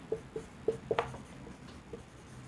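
A teacher writes on a board during a Hindi biology lesson on enzymes and proteins, making a handful of short, sharp scratching strokes close by, with a quiet pause after them and no talking.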